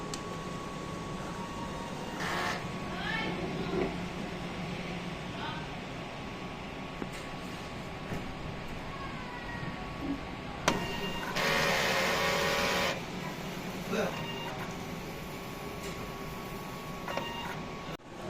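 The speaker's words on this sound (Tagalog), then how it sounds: "Ito naman po ang tamang pag head clean." Eco solvent large-format printer running a print head cleaning cycle, a steady mechanical whir with clicks, beeps and a louder burst of hissing motor noise partway through, with someone talking now and then.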